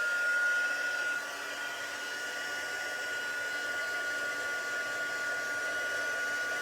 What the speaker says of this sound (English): it's a Stampin' Up heat gun